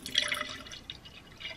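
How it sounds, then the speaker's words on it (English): Bubble tea trickles and drips as it is poured into a cup, a short, faint liquid splash with small droplet sounds, alone without talk. "I'm just going to pour it in a cup"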